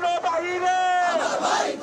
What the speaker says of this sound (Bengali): স্লোগানে স্লোগানে উত্তাল ঢাকা বিশ্ববিদ্যালয় ক্যাম্পাস।